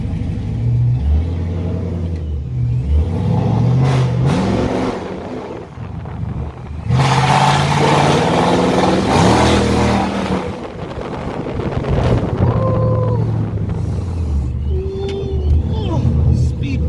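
A car with catless exhaust pipes revs repeatedly, loud rumbling bursts and blips rising and falling close by, with people talking over parts of it.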